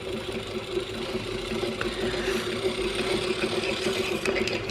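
An antique Singer 128 sewing machine winds its bobbin as the handle turns, a soft, steady mechanical whir with light ticks, faint and alone.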